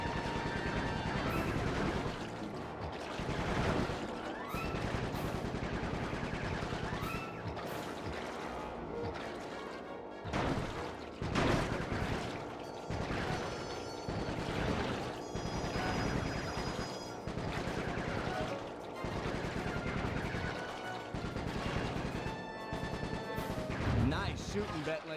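Bentley's shots in the Sly 3 video game sound as dense, repeated bangs and blasts that run steadily for about 25 seconds, layered over a busy game soundscape with a voice at times.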